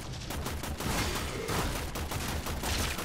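Dense, loud bursts of shotgun fire in the sci-fi shooter Warframe overlap into a steady barrage of blasts with no clear pauses.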